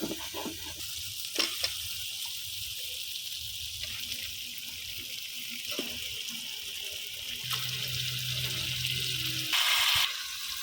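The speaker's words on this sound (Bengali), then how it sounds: "তো এখন আমি দিয়ে দিব মাংসগুলা।" Broiler chicken pieces dropped into hot, well-fried spice paste sizzle steadily for about ten seconds, with scattered clatter of pan and spoon and a louder hiss surge near the end; no talking.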